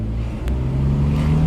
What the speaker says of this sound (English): Let the car speak for itself just a little bit.